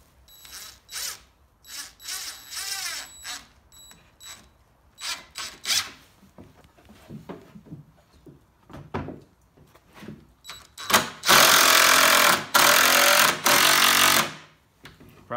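A power drill drives screws into pallet wood while a chicken coop is being built: scattered clunks and short whirring bursts, then a loud, sustained grinding run near the end. Nobody speaks.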